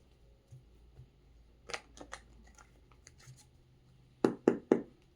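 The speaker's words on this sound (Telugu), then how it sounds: "నేను షఫుల్ చేస్తున్నాను. లాస్ట్ షఫుల్ అండి." A deck of tarot cards is shuffled by hand, with short riffling bursts and a final trio of sharp, close card snaps and taps, no talking.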